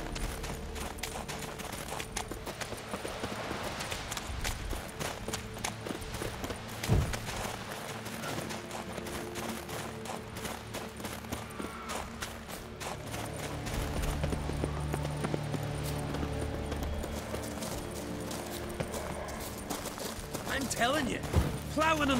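Horse hooves clip-clop in a fast, steady rhythm over a dense, busy soundscape of game effects in The Witcher 3, continuous and fairly loud.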